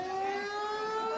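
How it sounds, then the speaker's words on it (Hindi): Air raid siren wailing in Sialkot, Pakistan, a steady sustained tone with strong harmonic layers held at constant loudness throughout, no voices heard. "सियालकोटमध्ये सायरन वाजवले जात आहेत"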